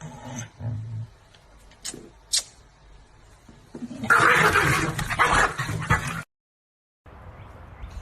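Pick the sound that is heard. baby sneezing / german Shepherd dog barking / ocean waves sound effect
german Shepherd dog barking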